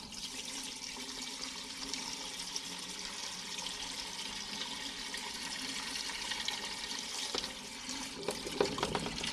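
Water rushes steadily through a drain pipe, a continuous close hiss and gurgle that holds level throughout with a few brief knocks near the end.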